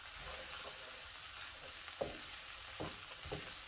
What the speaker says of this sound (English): Next, I'm going to add in my onion and garlic and continue the saute for 1 minute